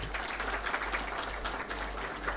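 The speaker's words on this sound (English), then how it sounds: "Big round of applause." Faint, steady applause from a conference audience, many hands clapping at a distance over a low electrical hum.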